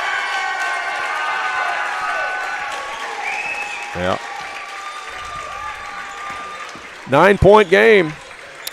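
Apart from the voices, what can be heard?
basketball fans standing and applauding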